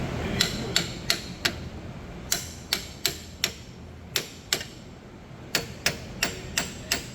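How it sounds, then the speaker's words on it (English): A hammer taps sharply about a dozen times in short uneven bursts, seating a camber part on a Mopar vehicle, metallic and close, with brief pauses between groups. "We're using the hammer just to kind of seat it."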